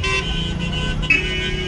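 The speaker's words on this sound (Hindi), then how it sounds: "और ये ट्रैफिक जाम गीजा का ट्रैफिक जाम" Heavy street traffic jam in Giza, Egypt, with a continuous drone of car engines and a short car horn toot near the middle, close and loud.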